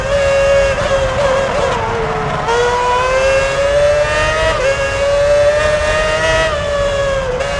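Formula 1 race car engines in the video game F1 2006 at the Japan Grand Prix, a loud continuous high-pitched whine that rises and falls steadily with the revs and never stops.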